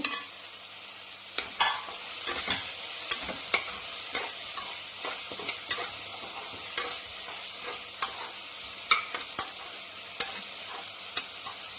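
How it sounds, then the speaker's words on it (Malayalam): Vegetables for a stew sizzle steadily in a hot pan, with frequent sharp clicks and scrapes of a utensil stirring them, close and continuous with no talking. "ചെറുതായിട്ടൊന്ന് വഴച്ച് അല്പം ഒന്ന് വഴറ്റണം"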